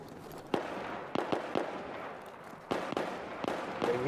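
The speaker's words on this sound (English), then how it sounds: "We get tracer fire south" Tracer gunfire in Battlefield 3, a scattered series of sharp cracking shots and pops, some in quick pairs, at moderate distance over faint background ambience.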